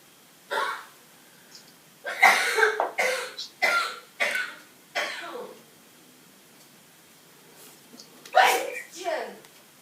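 A person with a cold lets out a run of sharp sneezes and hacking coughs in close, loud bursts, a quick cluster followed by a pause and then one more burst.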